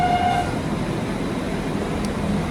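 A train rumbles at a small station in Hebden Bridge, a steady loud roar of rolling carriages with a brief tonal note at the start, close and continuous, with no talking.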